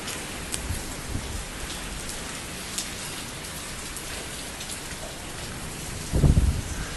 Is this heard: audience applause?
no